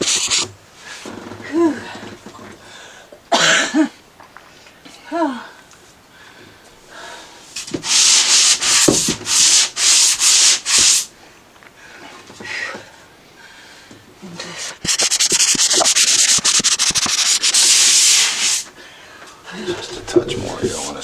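Sanding a wooden cabin wall, with bursts of loud abrasive rasping that start and stop unevenly, the longest running several seconds, and voices talking between passes.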